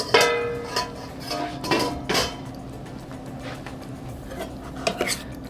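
Penne pasta is stirred through hot Alfredo sauce in a pan, with close clinks and scrapes of a utensil against the metal pan in irregular bursts, then quieter stretches of soft movement.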